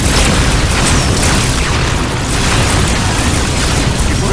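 Low-yield torpedo explosions in a sci-fi action film, a dense continuous roar of booms and rumbling blasts, loud and sustained throughout with no speech.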